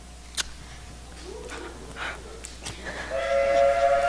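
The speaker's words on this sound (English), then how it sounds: "There's your train. Now run for it." A train pulls into a station with its whistle sounding. A sharp clank and scattered rattles come first, then a rising steam-style whistle tone swells loudly over the rolling rumble at the close.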